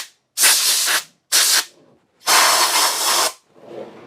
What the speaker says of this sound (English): Take a little air, blow it out.